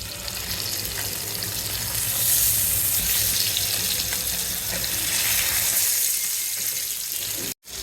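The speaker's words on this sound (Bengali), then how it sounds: "লাল লাল করে ভাজতেছি মাছটা" Koi fish fries in hot oil in a pan, a loud, dense, steady sizzle that swells slightly midway and continues without pause until a brief cut near the end.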